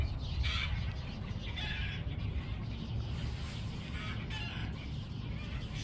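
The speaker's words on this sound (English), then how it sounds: "a couple big, huge chickens" Chickens, including a couple of big ones, cluck at a bird sanctuary on a warm day. The outdoor clucking is steady and moderately loud over a continuous low background rumble, and no one speaks.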